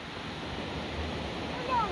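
Ocean surf at Betul Beach in South Goa near a river mouth, a low steady wash with wind rumble across the microphone, moderately loud and continuous, no talk.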